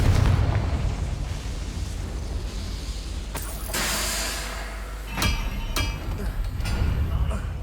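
Confringo fire spell in the game Hogwarts Legacy, going off in a loud, booming blast with a crackling burst, followed by a few sharp impacts over a rumbling game backdrop.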